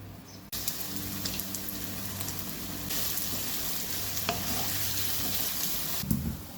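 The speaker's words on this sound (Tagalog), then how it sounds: "Okay, simmer muna natin." Adobo sa patis with a splash of water sizzles and bubbles in a pan, a continuous crackling fry punctuated by a few sharp clinks of stirring.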